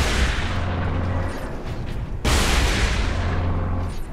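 Lascannon fire in the Warhammer 40,000 Space Marine video game: two heavy, booming blasts, each followed by a long roaring rumble that fills the mix, the second striking sharply about halfway through.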